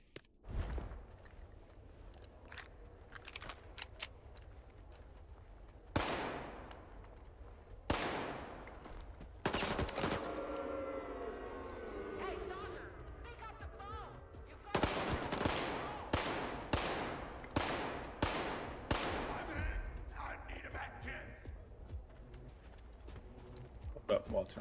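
Pistol gunfire in S.T.A.L.K.E.R. 2: sharp single shots, a few scattered early and a rapid string of about eight later, loud and close, with people talking between the shots.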